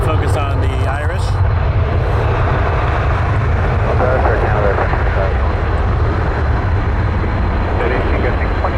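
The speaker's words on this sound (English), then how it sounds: "Now the Rouge that I mentioned earlier, about to take off." A Rouge airliner taking off at Toronto Pearson makes a loud, steady jet roar that fills the whole stretch. Brief voices are heard near the start.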